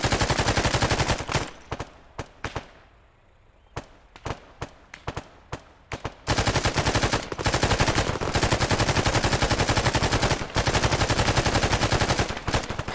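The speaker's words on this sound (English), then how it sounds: "Shooting tires out." Gunfire shooting out a convoy vehicle's tires in Arma 3 military simulation, scattered single shots at first, then sustained rapid automatic bursts, loud and close, with brief pauses.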